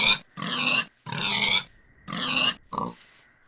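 Three loud, rough pig-like grunts from a lobster creature in a video game when it is hit, each about half a second long, followed by a shorter fourth grunt and silence.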